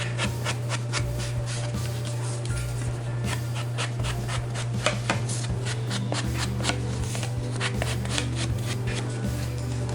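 Black pigment ink pad rubbed around the edges of paper tags, a close, continuous dry scraping and swishing with quick repeated strokes, no talking.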